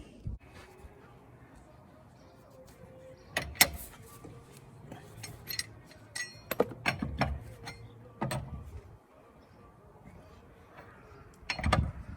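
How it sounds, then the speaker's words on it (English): A wrench works the wheel nuts loose on a 2010 Ford Focus MK2 during a front wishbone swap. It makes irregular ratcheting clicks and metallic clunks in several bursts, with quiet stretches between them and someone talking at times. "First thing we do is loosen the wheel nuts."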